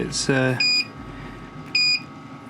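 A Samsung phone screen and back glass removal machine beeps on completion: a short electronic pattern of two clear high tones, after a brief vocal phrase at the start; a low hum runs underneath.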